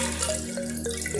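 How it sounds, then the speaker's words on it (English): Soaked hibiscus flowers and water being poured into a cooking pot, a steady liquid splash and trickle with a few brief drips, close and fairly quiet, no voices. "So I'll take my cooking pot"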